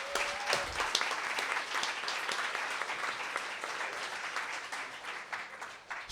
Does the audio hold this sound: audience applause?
yes